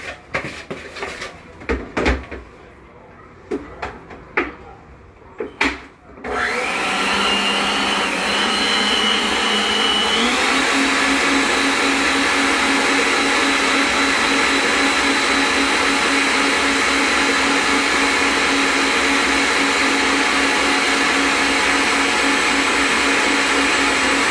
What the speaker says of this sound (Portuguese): vou misturar aqui a batedeira